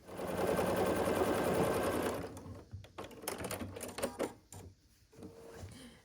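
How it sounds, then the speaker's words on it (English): Sewing machine stitching across quilt block seams for a star quilt, a loud steady whir for about two seconds, then scattered clicks and handling sounds. "we'll sew across"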